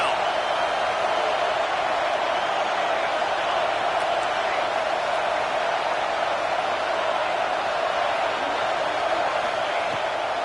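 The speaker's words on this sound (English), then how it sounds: "Decibels rising as the crowd gets behind this defense on third down." Steady broadband crowd roar fills an NCAA football video game stadium on third down, a constant loud wash of cheering with no distinct peaks, running unbroken from start to finish.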